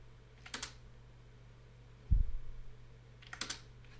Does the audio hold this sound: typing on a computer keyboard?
yes